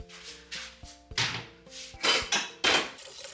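A small saucepan filled with a little water clanks and scrapes against metal in a series of short, close knocks, some ringing briefly, with no one talking.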